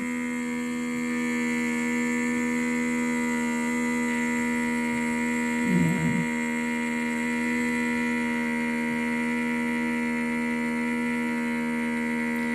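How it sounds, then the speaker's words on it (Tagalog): A handheld vacuum sealer hums steadily as it sucks air and water out of a plastic kitchen bag, a constant motor drone with one brief crackling burst of the bag crumpling midway. "automatic po na mag-i-stop itong handheld vacuum pagka nasipsip na niya lahat ng air sa plastic bag"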